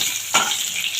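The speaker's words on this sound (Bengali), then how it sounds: "এবার যে তেল আছে, এই তেলের মধ্যে আলুটাও ভেজে নেব।" Potatoes frying in oil in a pan, a steady close hiss of sizzling with a brief louder burst near the start as food or a utensil stirs through the oil.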